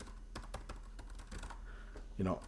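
Keys click on a small keyboard, a quick run of light taps close by, ending with a brief murmur of voice.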